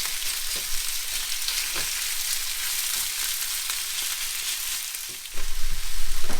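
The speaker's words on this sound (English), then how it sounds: "And all you're wanting to do here is just brown the meat." Meat browning in a pan at a campsite gives a steady, close sizzle and crackle with no talk, growing louder and busier over the final second.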